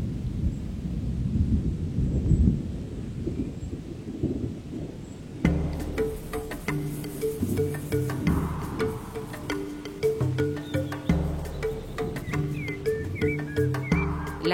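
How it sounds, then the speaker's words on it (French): Steady rain with a low rumble of distant thunder on the African savanna fills the first five seconds, then music takes over and carries on to the end. "La pluie, ingrédient essentiel au renouveau de la savane."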